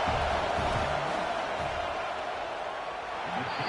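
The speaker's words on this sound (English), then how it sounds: "This crowd trying to do its part to get inside the kicker's head." Stadium crowd at an Oklahoma at Texas A&M college football game roars steadily as a field goal kick approaches, a constant wash of noise with a commentator talking over it.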